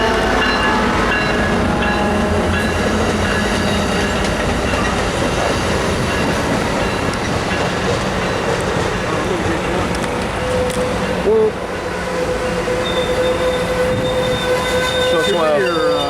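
Pacific Surfliner passenger train passing on a windy day, a loud continuous roar of rolling wheels and rail clatter with a brief squeal of wheels near the end; people talk nearby under it.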